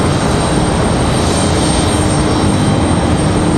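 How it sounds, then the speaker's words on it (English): An American Airlines Airbus A319 arriving from Philadelphia at Raleigh-Durham airport, its jet engines giving a loud, steady broadband roar that stays constant throughout. "So we turn from WestJet back over to American. The A319 from Philadelphia."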